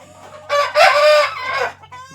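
Bhimavaram breed roosters and chickens crow and cluck loudly and close by, one long strained crow overlapping with clucking, then a brief pause and a short final call.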